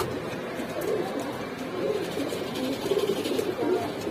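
Giribaz and Kaldom pigeons keep up a low, continuous cooing close by, with overlapping throaty phrases swelling toward the end over a steady background hum.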